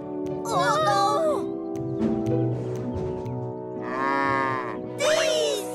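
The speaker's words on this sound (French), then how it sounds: "Les vaches, vous pouvez descendre." Cartoon cows low in drawn-out moos, several separate calls spread across the moment, with a narrator's voice and soft music in the background of a Thomas the Tank Engine scene.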